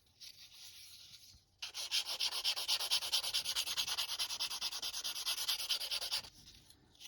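Close, steady rhythmic rasping as the sprue mark is sanded off a plastic T-55A tank upper hull part, a burst of quick strokes lasting several seconds after a quieter start, with no talking.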